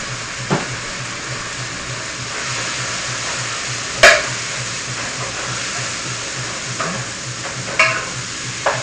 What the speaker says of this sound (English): Put that in there, let that cook as the hamburger is browning.